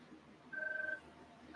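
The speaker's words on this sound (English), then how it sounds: "and there goes my phone" A phone rings with a short electronic trill, one ring followed by the start of another, faint and alone.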